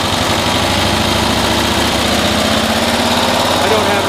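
Small engine of a 1972 Cushman pickup with a rebuilt carburetor, running with the choke on, a loud steady close-up chug that holds level throughout, with someone talking over it.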